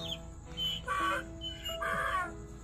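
Peeping of chicks from a toy farm animal sound board, several short bright chirps in quick bursts at moderate volume over a faint electronic hum, with no talking.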